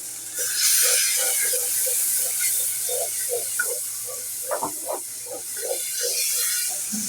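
Water poured onto frying masala of turmeric and chili powder hisses loudly in a pan, a broad steady sizzle that fades gradually, with faint bubbling and spattering pops underneath.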